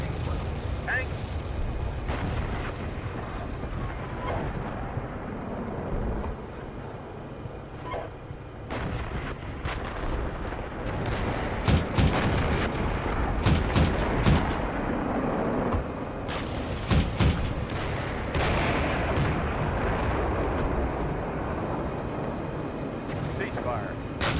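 Gunfire and heavy artillery blasts in a military tank video game, a dense, loud, continuous barrage with sharp cracks and booming impacts throughout, while players talk over it.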